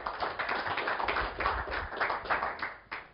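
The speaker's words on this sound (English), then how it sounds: "Give them a round of applause helping me out." An audience claps together at a recruitment training talk, a dense, steady patter of many hands that holds for a few seconds and begins to thin out near the end.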